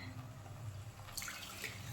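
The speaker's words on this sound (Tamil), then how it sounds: "இப்போ வந்து தண்ணி கரெக்டாக அளந்து எடுத்து வச்சுருக்கோம், அது போட்டுக்கலாம்." Measured water poured into a pot of spicy mushroom biryani, a soft continuous liquid rush with a brief brighter splash partway through, fairly quiet and with no talk.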